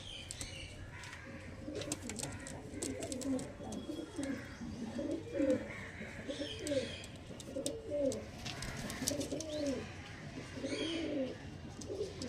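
Pigeons coo repeatedly in soft, rolling phrases, several birds close by, with some faint chirps and rustling in the background.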